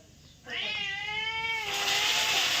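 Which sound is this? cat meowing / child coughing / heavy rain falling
cat meowing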